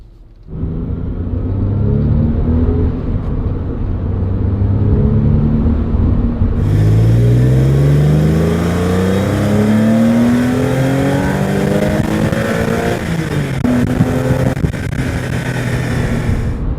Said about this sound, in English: Stock exhaust, so pretty quiet.